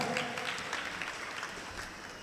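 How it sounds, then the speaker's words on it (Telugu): A church congregation claps loudly in praise, a dense wash of many hands applauding at once, steady and fairly distant, with faint voices mixed in. "గట్టిగా చప్పట్లు కొట్టి గట్టిగా దేవుని మహిమ పరుద్దాం."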